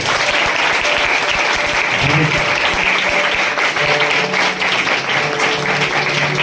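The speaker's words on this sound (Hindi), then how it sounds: "सारे लोग परमेश्वर के वचन के लिए ताली बजाएं।" A church congregation claps at a prophetic sermon, sustained dense applause filling the room loudly and evenly throughout, with a voice faintly present beneath it.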